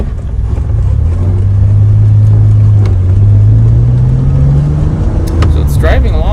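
A late-VIN DeLorean drives along with a steady, loud engine drone and rumble that rises and falls slightly. Toward the end a voice talks over it.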